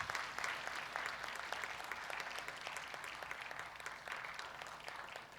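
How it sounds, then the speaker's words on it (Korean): A church congregation claps during a retirement recognition ceremony, a steady, even patter of applause from a sizable group that continues throughout and sounds somewhat distant. "받으실 때 큰 박수 부탁드립니다."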